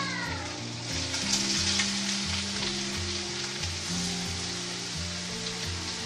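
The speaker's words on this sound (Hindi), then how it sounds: "अब हम इसमें डाल देंगे हमारी ये मूली।" Grated radish (mooli) sizzles and fries in a hot pan while a mooli sabzi filling for paratha cooks, giving a steady, close, crackling hiss throughout.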